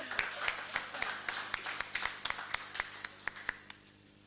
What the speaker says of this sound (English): are they clapping for themselves?